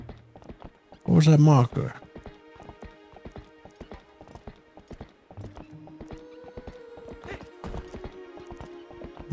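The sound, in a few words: horse hooves in video game Twilight Princess HD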